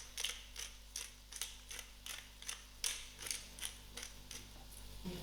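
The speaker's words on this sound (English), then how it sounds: "To this, I'm going to give a generous grind of black pepper." A hand-turned pepper mill grinding black pepper over a pot of chana soup, giving a steady series of dry, crunchy ratcheting bursts, about a dozen evenly spaced twists, close and fairly quiet with no talk.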